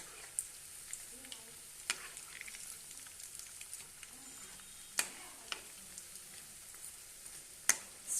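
Egg idli frying in a pan on a low flame, a quiet steady sizzle broken by scattered sharp pops and crackles.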